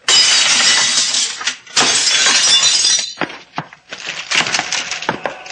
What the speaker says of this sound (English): Watch out for the flying glass, sailor.